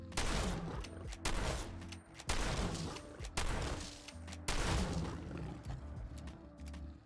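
Shots from a handmade lever action shotgun in the Fallout 4 video game, heard as five sharp, loud blasts with brief lever-cycling gaps between them and short decaying tails.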